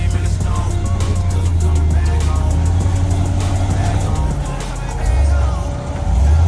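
Off-road race vehicles at King of the Hammers drive past with a continuous low engine drone that swells and fades as they go by, loud and close, with faint voices underneath.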